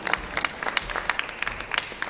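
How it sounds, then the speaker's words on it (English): Conference audience at a job creation and trade event in Abuja applauding, dense steady clapping from many hands filling the room. "Please, a round of applause."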